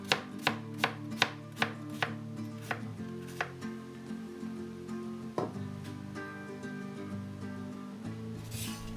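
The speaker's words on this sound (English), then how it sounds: "We're gonna slice them thinly into bite-sized pieces." A knife thinly slices carrots into bite-sized pieces on a cutting board, starting with a quick, evenly spaced run of about eight sharp chops, then a few scattered cuts and faint kitchen clatter.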